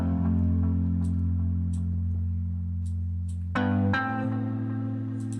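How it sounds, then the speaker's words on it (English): A muted electric guitar sample called Mute from the Guitar Reveries library in Kontakt plays sustained low, effects-laden tones with a warm reverberant wash, then a brighter chord strikes in near the end. "So I started with a guitar, and that guitar sounds like this."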